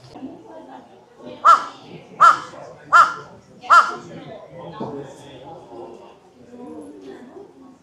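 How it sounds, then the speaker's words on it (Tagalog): A large crow near Meiji Shrine in Tokyo, Japan, gives four loud, harsh caws at an even pace, ringing out over a murmur of background chatter from the shrine grounds. "Laki ng uwak yan"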